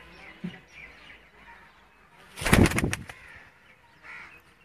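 A pigeon from a fancier's loft, with faint chirps and coos and then a loud burst of wing flapping near the middle as the bird is handled and brought out of its cage.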